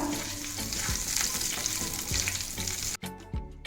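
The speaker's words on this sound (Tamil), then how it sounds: "எண்ணெய் சூடாயிடுச்சு. கடுகு போட்டுக்கலாம். ஜீரகம், வெந்தயம் லைட்டா ப்ரௌன் ஆகட்டும்." Mustard seeds, cumin and fenugreek fry in hot oil for a Tamil fenugreek kuzhambu, giving a loud, steady sizzle with crackles and stirring scrapes that stops abruptly near the end.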